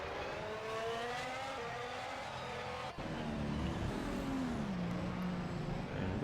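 Mercedes Formula 1 cars race at the Singapore Grand Prix in an F1 video game, their high-pitched engines whining and shifting pitch as they run steadily and fairly faintly, with one brief dip partway through.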